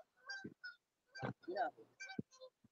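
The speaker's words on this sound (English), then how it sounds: "Yeah, the geese are climbing down there." Geese honk several times in short, nasal calls from a flock moving down nearby on an evening fishing outing, with clear gaps between calls and no other sound.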